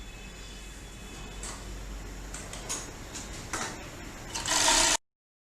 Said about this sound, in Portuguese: Primeira coisa que eu gosto de fazer é já dar o acabamento de overlock nas pontas